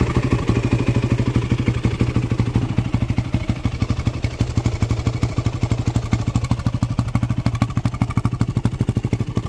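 A motorcycle engine runs steadily with a fast, even exhaust pulse. The throbbing is close and loud throughout, with no talk.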